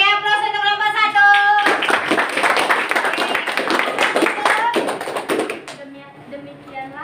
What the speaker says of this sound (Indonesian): Oke, beri aplaus untuk kelompok